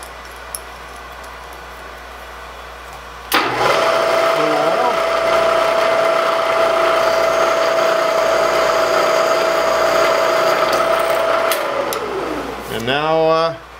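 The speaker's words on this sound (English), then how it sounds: "First I'm going to drill with my center drill." A steady, loud machine whine of a center drill boring into metal, running continuously for several seconds with a high tone, winding down at the end.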